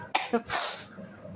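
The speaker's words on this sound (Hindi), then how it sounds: "जब मैं बोलती हूँ ना तो खांसी सी हो जाती है" A short burst of two quick coughs followed by a rough, breathy exhale, close and fairly loud.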